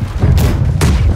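Ship cannons firing a broadside in a naval video game, heard as loud, dense, rumbling booms with two sharper blasts layered over a continuous low roar.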